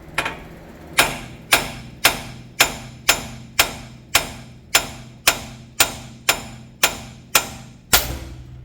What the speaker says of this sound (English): Hit it with a hammer, that's what he said.